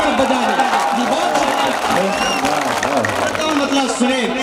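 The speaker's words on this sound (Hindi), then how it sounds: "एक बार जोरदार तालियां आप सब बजा रहे हैं" Audience at an All India mushaira in Khairabad, Mau, applauding loudly and steadily from start to finish, dense clapping from a crowd with voices mixed in.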